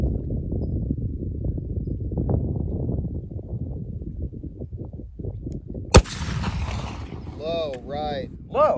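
A single sharp rifle shot firing an ammonium nitrate black powder cartridge cracks out loudly at an outdoor range, following a stretch of wind and low rumble, with faint later noises near the end.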